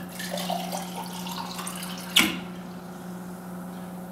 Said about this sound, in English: Not much foam because I poured it down the side of the glass and there's no ice cubes in here.